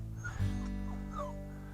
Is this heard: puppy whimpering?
yes